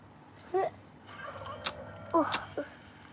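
Several short clucking chicken calls from a Roblox game in bursts, with sharp high chirps, fairly close over a quiet background.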